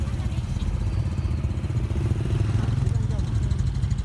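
Motorcycle engine running steadily nearby on a street in Sapa, Vietnam, a low continuous rumble with background bustle and people talking throughout.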